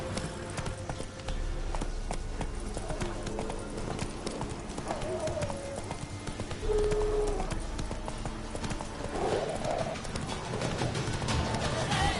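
Horse hooves clip-clop steadily in The Witcher 3 video game, a continuous trotting rhythm close up over game ambience, with a brief whinny and someone speaking over it.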